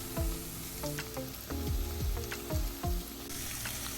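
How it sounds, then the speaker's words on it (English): Celery sautéing over medium heat in a pan, with a constant close sizzle broken by a few regular clinking, scraping stirs. "on medium heat, let's saute it for about 4 minutes"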